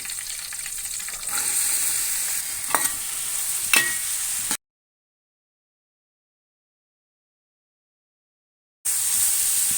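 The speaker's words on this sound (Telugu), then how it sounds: "ఇదిగోండి ఇలా వేగిన తర్వాత కరివేపాకు వేసుకోవాలి ఇప్పుడు ఉల్లిపాయ ముక్కలు వేసుకోవాలండి" Onion pieces and curry leaves fry in hot oil with a bright, continuous sizzle and a few stirring clicks, then a long stretch of total silence before the sizzle returns.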